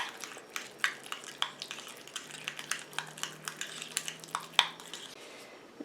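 Homemade face cleansing gel being stirred in a small container, a run of close, irregular clicking and tapping scrapes from the utensil against the vessel, quiet with no talk.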